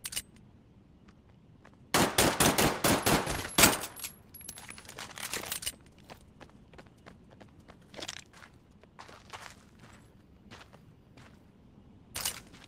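Rapid pistol gunfire from the game Medal of Honor: Above and Beyond, a fast burst of several sharp shots close together, followed by softer scattered clicks and clatter, then one last shot near the end.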